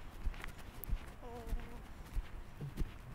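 Horse trotting in an arena during a hackamore riding session, hoofbeats landing in a steady rhythmic clip-clop at moderate distance, with a person speaking over it.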